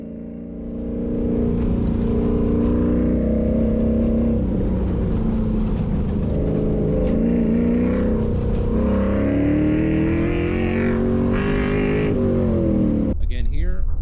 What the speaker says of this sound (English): See here as I smash on the brakes and take a hard right under trail braking